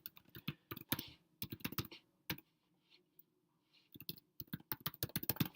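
Rapid bursts of computer keyboard typing, close and crisp, with brief pauses between runs of keystrokes and no talking.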